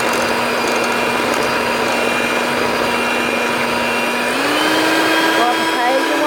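An electric hand mixer's beaters churn peanut butter cookie dough in a steady, loud whir that rises slightly in pitch partway through, running continuously.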